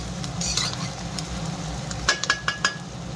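Garlic and onion fry in a pan of oil for mustard greens, giving a steady close sizzle with a few sharp clinks of a spatula against the pan near the end.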